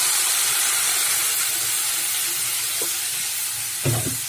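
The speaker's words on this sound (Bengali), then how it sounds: "এর মধ্যে এবারে জল দিয়ে দেবো" Water hits a hot frying pan of salted potatoes, raising a loud, steady steam hiss that fills the whole stretch, with a couple of soft knocks of the pan near the end.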